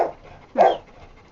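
At a dog hotel, a dog gives a single short, close bark after a brief whimper, with faint panting in between and no speech.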